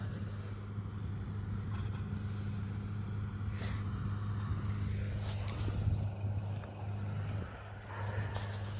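A tractor pulls a five-furrow plough with 44 cm bodies through wet corn field stubble. Its engine gives a steady, close, low drone that continues without a break.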